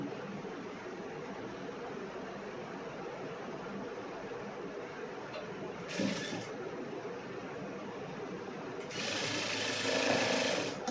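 Sewing machine stitching a blouse seam, a low continuous mechanical hum with brief brighter bursts of faster running near the middle and the end, close and moderately quiet.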